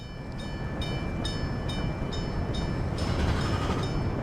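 A train rolls along the rails in Workers & Resources: Soviet Republic, a steady low rumble with regularly spaced metallic clicks and a faint tonal whine, heard alone at a constant, fairly close level.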